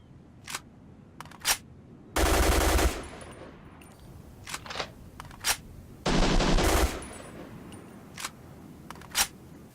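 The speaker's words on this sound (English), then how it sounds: "when you finally shoot out all the ammunition inside of your weapon" Tar-21 assault rifle fire in the online shooter Black Squad comes as two loud sustained automatic bursts of about a second each, with scattered clicks and reload clatter between them, up close and with no talk.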